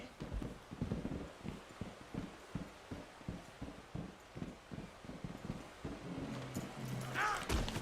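Horse hooves clip-clop in a steady, even trotting rhythm in Red Dead Redemption 2, fairly close and moderately loud, with faint game ambience and a brief voice near the end.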